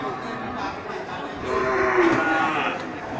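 Aceh cattle moo in a long, low call that swells midway, heard close over a background murmur of a farm pen, with no speech.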